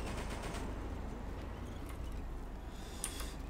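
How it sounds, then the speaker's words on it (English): Distant gunfire crackles faintly in bursts over a steady low rumble, with a sharper pop near the end, in the video game BattleBit Remastered. "Hearing gunfire!"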